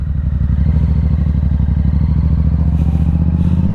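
Yamaha R7 motorcycle fitted with a full aftermarket exhaust and tune pulling away, its deep, loud engine note throbbing steadily and close throughout.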